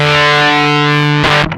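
An electric guitar through a BOSS FZ-1W fuzz pedal set to maximum fuzz rings out as one loud, sustained, thickly distorted chord that cuts off abruptly after about a second and a half.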